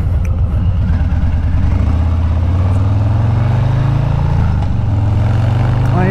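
A Harley-Davidson Street Bob motorcycle engine rumbles loud and close, a deep lumpy V-twin throb that rises in pitch as it revs and then settles back to a lower pulse.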